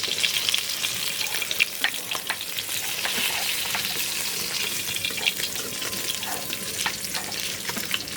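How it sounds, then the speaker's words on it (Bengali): Fish sizzling and spitting in hot oil in a home kitchen, a steady close crackle with scattered sharp pops throughout and no talk. "আমার মাছটা ভাজা হয়ে গেছে"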